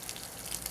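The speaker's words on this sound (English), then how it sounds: "Now we're just going to let that drain." Water draining out of an RV water heater tank during a flush, a steady broadband rush of flowing water with faint splashing, continuous and fairly quiet throughout.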